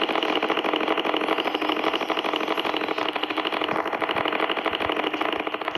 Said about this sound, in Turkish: Traktör de yavaşmış.